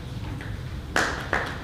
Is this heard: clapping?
yes